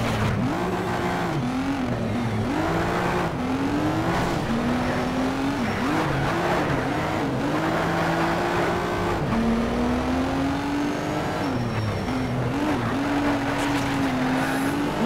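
Nissan GT-R race car in the racing game NFS Shift, engine loud and up close, pitch climbing again and again through gear changes under steady acceleration, with faint tire noise and no talk.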